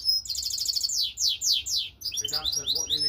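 A European goldfinch mule sings close by, with rapid bright twittering trills and buzzy descending phrases repeated in quick succession and no voices over it.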